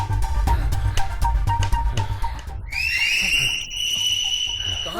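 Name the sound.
a person whistling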